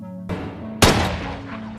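A gunshot in a film rings out as a sharp, loud blast with a brief decaying tail, following a softer impact-like thud amid a tense background score.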